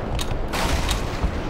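Sniper fire in the Black Mesa game, with sharp loud cracks arriving in quick succession over a heavy, rumbling battle din.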